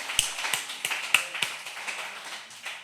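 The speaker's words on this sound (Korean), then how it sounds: "이럴 때 한번 박수 한번 치는 겁니다." Applause from a church congregation at a testimony service: a handful of scattered, separate claps and taps, fairly faint and sparse rather than a full ovation, with no talking over them.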